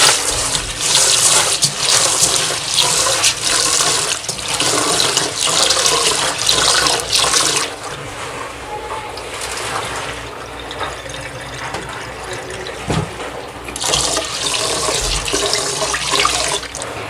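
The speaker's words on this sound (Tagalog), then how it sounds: "Lalagay na po natin ang ating glutinous rice sa ating kaldero. Kailangan nating hugasang maigi." Tap water runs and splashes into a pot as glutinous rice is rinsed for sweet sticky rice cake, a steady broadband wash that eases off midway and then returns strongly, with no talk.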